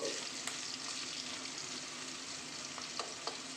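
Brinjal, pumpkin, potato and radish fry with a fish head and pui shak greens, giving a dense, steady sizzle close up, with occasional light clicks of stirring and no talking.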